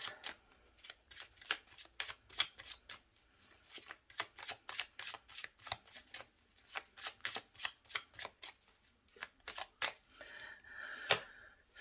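Tarot cards are shuffled and slid aside on a table, a steady run of close, soft papery flicks and taps that continues throughout with no talking.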